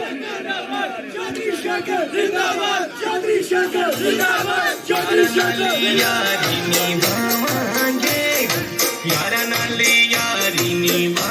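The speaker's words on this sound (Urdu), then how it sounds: "ایک دفعہ چودھری شاکر صاحب کے بھرپور نعرے ہو جائیں" A crowd at a Pakistani election campaign rally chants slogans in loud, rhythmic call-and-response bursts, with a lead voice shouting and many voices answering in unison.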